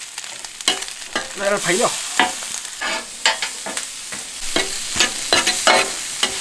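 Pork intestines are stir-fried on a tabletop stove, giving a busy sizzle with repeated spatula scrapes and stirring clatter, close up, while a voice speaks briefly.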